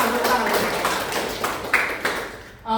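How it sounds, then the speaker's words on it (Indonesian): Students clap together in a classroom, a dense, continuous burst of applause that fills the room before trailing off with a few scattered claps at the end. "Give applause for Mbak Nadia"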